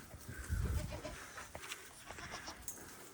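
Goats bleat on a farm in Portugal, with one loud nearby bleat early on followed by fainter calls and scattered farmyard sounds, no talk over them.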